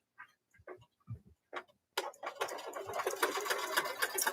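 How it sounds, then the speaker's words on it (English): Embroidery machine stitching a satin stitch around the center of a mug rug in the hoop, starting with a few scattered ticks and clicks, then a steady, dense, fast mechanical whirring chatter from about two seconds on, close and alone. "So now it's going to do that satin stitch around that center."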